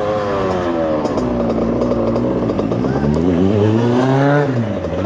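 Motor vehicles escort a Tour de France cycling race as it passes: close, loud engines drone and rev, their pitch rising and falling as they go by, continuous over several seconds.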